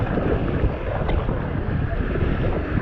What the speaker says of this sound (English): These are some huge waves today.